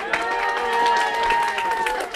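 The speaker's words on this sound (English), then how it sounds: "more clapping on this side." Audience clapping at a live show, brisk, crowded hand claps mixed with a sustained musical tone and crowd noise, with voices faintly underneath.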